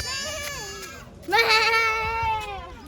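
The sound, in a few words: goats bleating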